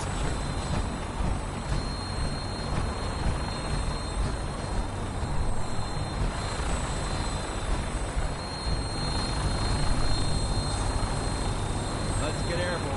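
In the video game Fallout 4, a gunship aircraft's engines drone with a steady jet-like roar, a continuous wash of noise that swells slightly toward the end, with voices talking faintly underneath.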